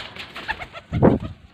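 Domestic pigeons held for sale in Faisalabad give a short, soft cooing call, a brief throaty burst close by with faint murmurs around it.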